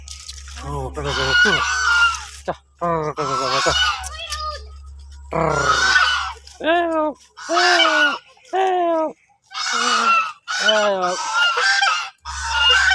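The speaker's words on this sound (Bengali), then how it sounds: "এটা যে রাজহাঁস, দেখছো দেখছো?" Domestic geese honking loudly and repeatedly at close range in a village setting in West Bengal, with chicken-like clucks mixed in and a person talking between the calls.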